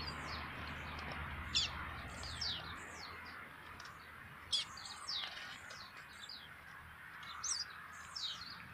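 A papa-capim chorão, a small songbird, sings repeated short twittering phrases as it disputes song near a nest, the bursts coming every second or so over a faint steady background hiss.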